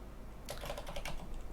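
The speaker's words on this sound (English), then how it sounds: "Oh, I can type in my password." Password typed on a computer keyboard: a quick run of crisp, close key clicks begins after a short quiet moment and continues steadily to the end, with no talking.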